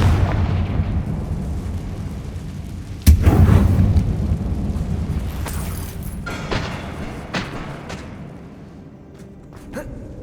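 A booming fire-spell blast, Confringo, in the Hogwarts Legacy game inside a tomb-like mine, with a sharp loud onset followed by a long rumbling decay, a few smaller pops and crackles trailing off afterward.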